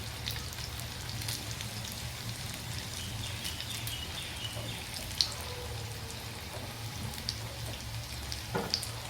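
Small portions of mixed lentil vada or mixed vegetable bhaji batter deep frying in hot oil give a steady, faint sizzle and crackle throughout, with no voices.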